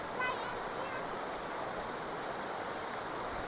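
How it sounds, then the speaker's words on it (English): Waterfall in the Appalachian mountains, a steady broadband rush of falling water that holds constant throughout, with faint voices briefly near the start. "Look, that's the waterfall right there."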